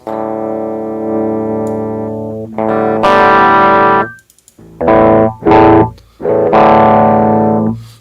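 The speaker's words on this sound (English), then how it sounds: "it sounded like a distortion." Loud distorted electric guitar chords ring out through an improvised amp, sustained at first, then a run of choppy, punchy strums with brief gaps between them.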